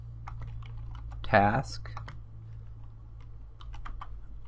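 Scattered soft keystrokes tap on a computer keyboard as code is typed, with a brief spoken word partway through over a low steady hum.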